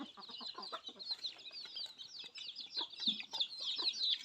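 Chickens cluck in quick, overlapping bursts alongside high chirping calls, a busy flock heard fairly close and steady throughout in an evening coop shared with ducks.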